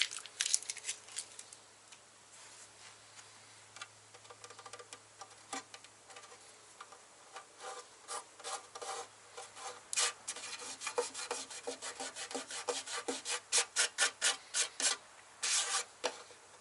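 Partly hardened bondo filler is scraped off a VW MK2 engine bay in short, rasping strokes that grow quicker and more rhythmic, heard up close with no talking.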